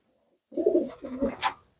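A pigeon gives a short series of soft, low coos, close and clear against otherwise quiet village surroundings.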